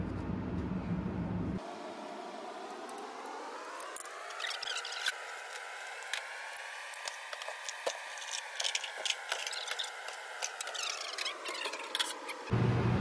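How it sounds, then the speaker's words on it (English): A laminar flow hood runs steadily at a mushroom liquid culture workstation, a continuous broadband fan whoosh with a gently wavering tone, joined by faint scattered clicks and handling noises. "that sound you hear is my flow hood"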